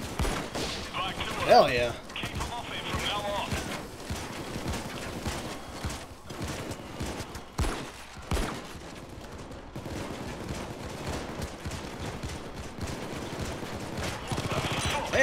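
Sustained gunfire in Payday 2 during a Hoxton breakout heist, with dense, rapid volleys of shots running throughout, a voice briefly cheering over the shooting.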